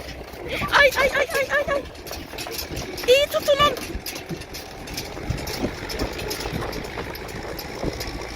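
A tractor engine runs while the vehicle drives along, giving a steady, rough rumble throughout with people talking and calling out over it.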